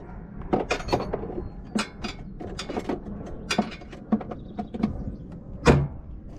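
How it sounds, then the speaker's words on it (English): A metal wrench is put away in a toolbox at the back of a drum mulcher setup, a string of sharp metallic clanks, clinks and rattles at irregular intervals, fairly close, with no talking. "I just keep this wrench in my toolbox back here"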